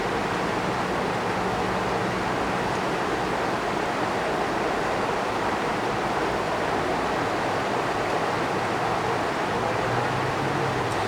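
A babbling brook beside the Deschutes River gives a steady, broad rush of flowing water, continuous and fairly loud with no pauses.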